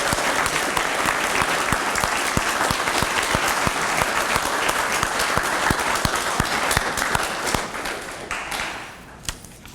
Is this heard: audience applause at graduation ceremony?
yes